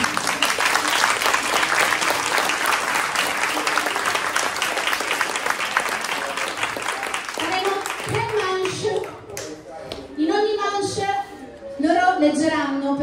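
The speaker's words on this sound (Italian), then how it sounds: "vi farei un grosso applauso" Classmates at a school poetry slam give a big round of steady applause for their chosen readers, the clapping running for about eight seconds before a voice begins speaking.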